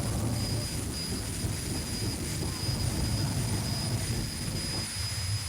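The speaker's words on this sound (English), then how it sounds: "The afterburner is what gives these cars the most power." A jet-powered race car roars with a loud, continuous broadband rush of jet thrust and afterburner that stays steady and close throughout, with no speech over it.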